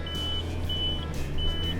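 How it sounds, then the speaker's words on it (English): Repeated high electronic front diff lock warning beeps sound over a low idling off-road vehicle engine, three drawn-out tones with short gaps between them. "Excuse the beeping, but that is front diff lock engaged."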